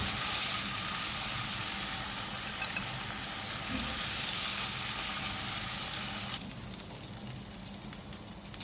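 Chicken pieces frying in hot oil in a pan for restaurant-style butter chicken, a steady close sizzle and crackle that drops noticeably softer near the end, with no talking.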